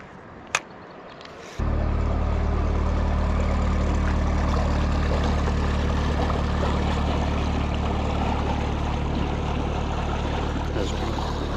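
A motorboat chugs past on a canal, its engine starting abruptly after a brief quiet moment with a sharp click, then a loud, steady low drone that stays close throughout.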